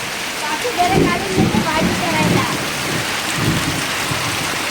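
The first monsoon rain pours over a Ratnagiri village in Konkan, a steady, close hiss of falling water while voices talk briefly over it.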